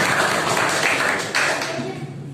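A class applauding after a group presentation, steady broadband clapping from many hands throughout a short burst, close and fairly loud, tapering slightly at the end.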